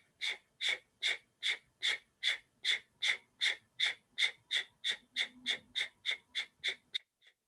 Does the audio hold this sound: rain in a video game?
no